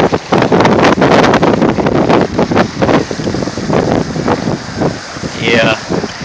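Strong wind gusting across the microphone aboard a Helmsman 23 sailboat, loud buffeting rushes with water and hull noise underneath and a brief voice near the end.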